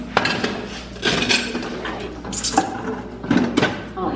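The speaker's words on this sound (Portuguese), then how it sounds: "já ajeitei aqui as panelas, vai tirando tudo das caixas" Metal pots and pans being lifted out of boxes and set down in a kitchen corner, giving several irregular clanks and clinks up close, with short pauses between knocks and a voice talking in between.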